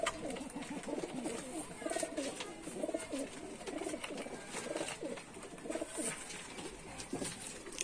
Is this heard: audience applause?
no